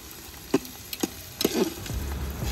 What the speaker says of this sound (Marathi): कांदा फ्राय करता करता ह्याच्यामध्ये आपण खडे मसाले टाकले मंडळी. लाल होईपर्यंत फ्राय करायचं ना.